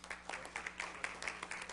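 Scattered clapping from a small audience at a Board of Education meeting, uneven individual claps at moderate distance over a steady low room hum.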